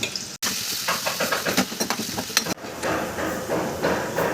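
Ginger-garlic paste frying with green chillies in a hot oiled pan, a steady sizzle with stirring clatter and spoon taps throughout, close and continuous, with two brief dropouts.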